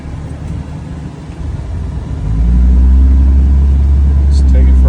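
A 2005 Dodge Ram dually flatbed with a 5.9 Cummins diesel rumbles nearby, building to a louder, deeper steady drone partway through as it starts moving, with a voice speaking over the engine.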